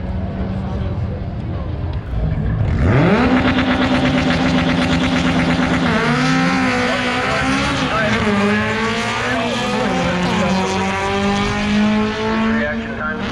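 A VW Golf race car launches on a run at a time attack and drifting event, its engine snarling loudly up through the revs with sharp gear-change dips, close and continuous over a steady background of crowd and commentary.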